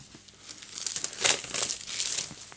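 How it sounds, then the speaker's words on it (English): Cellophane wrapping being ripped and crinkled off a boxed RPG game set, a close, bright burst of crackling and tearing that swells in the middle and continues in rustling bursts, with no talking. "So let's just rip this cellophane off."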